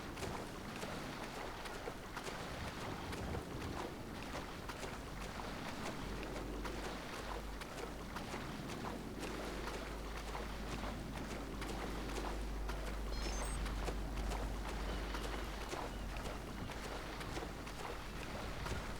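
A boat cruising across the ocean in GTA 5, with a steady low engine drone under constant wind and water rush, continuous and fairly close, no voices.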